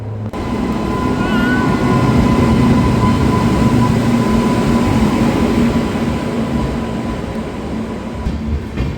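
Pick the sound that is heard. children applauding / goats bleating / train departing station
train departing station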